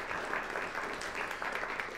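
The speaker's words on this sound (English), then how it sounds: "What do you say we give these young men and women a round of applause?" Audience applause at a school district spelling bee final, a moderate, continuous patter of clapping hands from a seated crowd with a few faint voices underneath.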